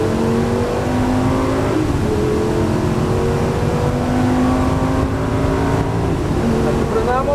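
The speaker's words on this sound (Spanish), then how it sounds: "Acelera a fondo, fondo, fondo, todo derecho, todo derecho." A Lamborghini Gallardo accelerating at full throttle, its engine heard from inside as a loud sustained roar rising through the gears with brief dips at each shift, a voice speaking over it.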